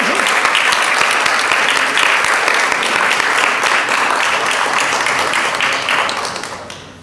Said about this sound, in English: raise so that we can give you a round of applause